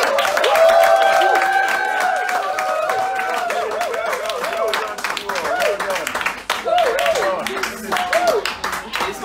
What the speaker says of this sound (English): could you all please clap for yourselves?